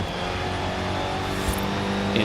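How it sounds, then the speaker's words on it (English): A car engine heard from the cockpit view in Forza Horizon 5, a steady loud drone that holds at speed with a faint rise near the end and no talking. "The inside sounds definitely different. You hear more of the engine"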